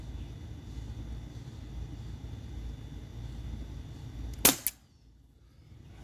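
A single sharp shot from a Glock 17 Gen 5 T4E .43 caliber CO2 air pistol cracks out near the end over low backyard outdoor rumble, then a brief fading tail and near quiet.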